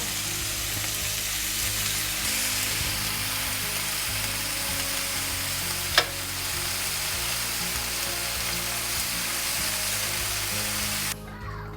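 Steak and veggie kebabs sizzle on a hot grill pan in a steady, even crackle with one sharp clink midway, continuing alone without talk until the sound drops off abruptly near the end.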